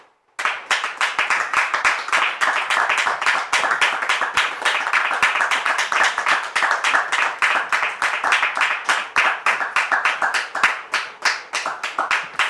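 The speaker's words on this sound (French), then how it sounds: "je vous demande ici maintenant de recevoir le pasteur Donald sous vos applaudissements" A church congregation at an international ministry service applauds to welcome a pastor, with dense, loud, continuous clapping that holds steady for about twelve seconds and no talking over it.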